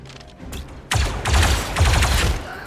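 Blaster-style gunfire in the Star Wars Zero Company video game, a few faint shots followed by a sudden loud volley and then repeated bursts of rapid fire over a mechanical background.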